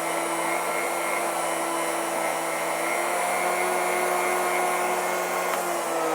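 A woodworking router running at its lowest speed with a large stile and rail cutter fitted gives a constant, even high-pitched whine and hum, steady throughout and close by, with no talking.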